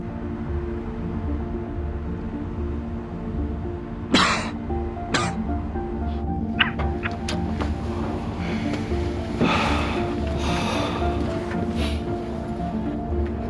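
Over a steady low hum, a single sharp cough rings out, followed shortly by a second, with faint clicks and rustles afterward.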